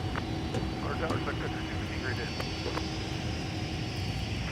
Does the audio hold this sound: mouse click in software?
no